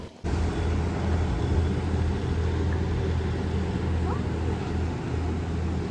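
A boat comes toward the listener on the backwaters of Kuttanad, its engine a steady low rumble that holds at a moderate level throughout.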